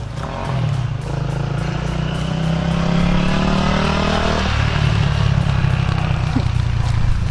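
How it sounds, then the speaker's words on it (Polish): A motorcycle engine drones steadily on a street, its pitch shifting as the machine passes close by, loud and continuous throughout. "jakiś motor znowu jedzie"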